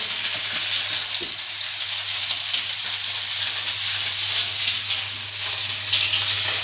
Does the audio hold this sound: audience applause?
no